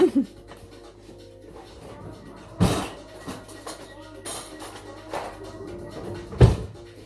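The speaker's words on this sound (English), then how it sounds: "ignore that noise, it's just my dog" A dog pants softly in the background with a few faint whimpers and several sharp knocks or bumps, close by, with no talking.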